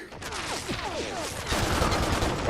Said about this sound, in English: Guy's got a heavy ass machine gun though.